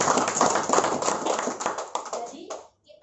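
Applause from an audience at a home meeting gathering, a dense burst of many hands clapping that carries steadily for a couple of seconds, then fades and breaks off into near silence.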